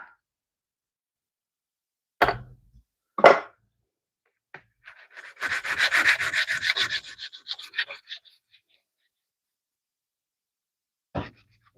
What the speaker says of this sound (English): Sometimes we accidentally sand off our registration.